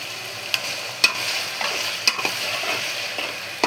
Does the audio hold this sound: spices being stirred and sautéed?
yes